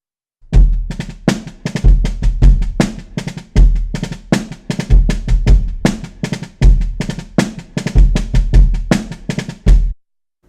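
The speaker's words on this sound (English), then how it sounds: "Now we're going to take our new, more complicated kick snare pattern and add some upbeat doubles" A close, loud drum kit plays a kick-and-snare pattern with doubled upbeat snare strokes, repeating in steady bar-long phrases for about ten seconds before stopping.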